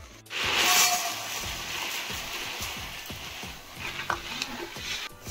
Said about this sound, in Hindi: मो फास्ट सिमेईटा भाजी देबी सोरिष तेल रे